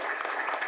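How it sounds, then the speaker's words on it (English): A brief burst of steady clapping from an audience at a web browser development challenge award ceremony, a dense even patter of many hands. "Big round of applause"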